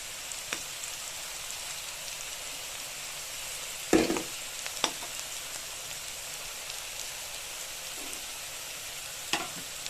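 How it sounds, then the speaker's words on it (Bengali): Potatoes fry in a pan for a traditional Bengali jhinge aloo posto, giving a steady, close sizzle broken by a few sharp scrapes and knocks of stirring. "এবার আলুটা ভাজা হয়ে গেছে প্রায়"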